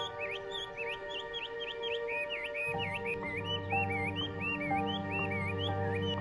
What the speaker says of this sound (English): Goldie's bird of paradise.